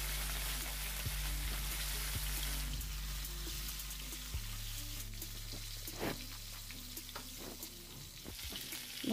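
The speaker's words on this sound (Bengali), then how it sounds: "এবং বাকি মাছগুলো আমি সেম প্রসেসে ভেজে নেব।" The remaining rui fish pieces sizzle in hot oil, a continuous crackling fry with scattered spattering pops and occasional stirring knocks, close up and without speech.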